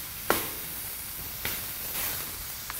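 Burger patties smashed onto a hot griddle for Oklahoma fried onion burgers, giving a quiet, steady hiss broken by three or four sharp sizzling bursts as each patty is pressed down.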